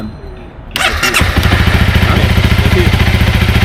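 A stalled motorcycle is started up close: a brief cranking clatter, then the engine catches and settles into a loud, steady, pulsing idle.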